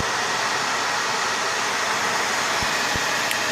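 A gaming server running 15,000 RPM hard drives, a loud, steady broadband whir with a faint high whine, interrupted near the end by a couple of brief low thumps.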